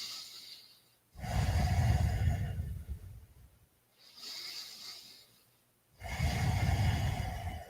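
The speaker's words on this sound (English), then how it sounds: "2 more breaths" Slow, deep breaths during a yoga balance pose, with two long inhale-exhale cycles close to the microphone, each a loud airy rush separated by quiet pauses, with no talking.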